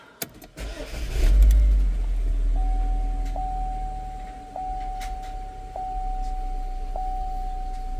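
A GMC Terrain or Chevy Equinox engine with a P0011 intake cam position fault cranks and catches, revs briefly, then settles into a steady idle while a warning chime dings at regular intervals.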